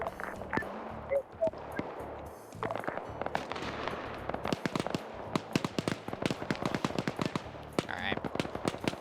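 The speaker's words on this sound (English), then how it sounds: "it seems we are under heavy fire here at Alpha" Heavy gunfire in a military video game operation, rapid sharp cracks and bursts in irregular clusters growing denser toward the end, close and loud, with someone talking over the shooting.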